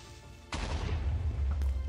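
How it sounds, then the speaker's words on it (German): A creeper explodes in Minecraft with a single sudden loud boom that cuts in abruptly and rumbles on, followed by a second burst a moment later. "Warum explodieren die denn jetzt auf einmal alle direkt?"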